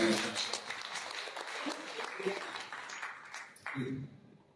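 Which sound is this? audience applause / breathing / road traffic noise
audience applause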